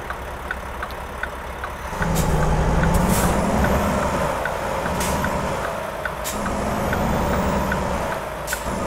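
A Mack Anthem semi-truck with a 70-inch sleeper, pulling a food trailer in American Truck Simulator, rumbles steadily up close. Its engine swells after a quieter start, and sharp air-brake hisses and faint beeps recur throughout.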